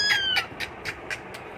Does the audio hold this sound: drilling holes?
no